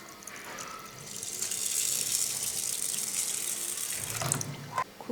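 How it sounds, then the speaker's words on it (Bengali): Water pours steadily into a pot of washed rice, a continuous close hissing splash that swells and then breaks off into a few light clinks of the pot. "এখন আমি চাউলে দিয়ে দেবো জল।"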